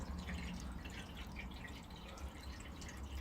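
Water drips from a leaking radiator valve in a faint, close patter of small droplets over a low steady background hiss, with no talk.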